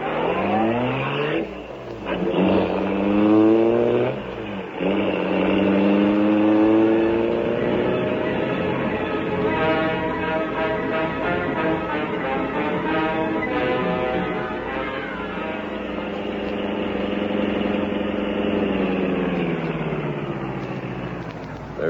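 A car engine starts and drives off as a 1939 radio drama sound effect, revving and shifting through rising and falling pitches, loud and close at first and then holding a steady drone.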